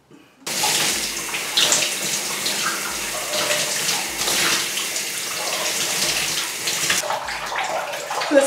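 Steady running water pours close by for several seconds, rinsing deep conditioner out of natural hair during a wash day, with a brief gurgling change near the end.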